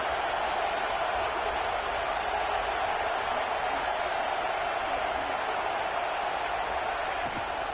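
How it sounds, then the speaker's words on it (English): A stadium crowd roars steadily in a college football video game, a dense, loud wash of cheering noise that holds constant throughout without breaks. "Listen to this crowd just shaking the girders of this place,"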